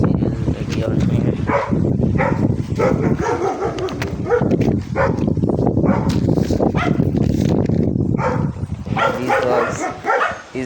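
Dogs barking and yipping throughout, fairly close and loud, with occasional whimpers, mixed with someone talking over them.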